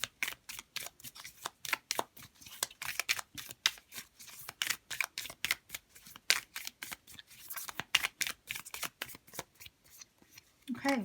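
Tarot cards shuffled by hand in quick repeated riffling bursts, close and crisp, with short pauses between runs and no talking.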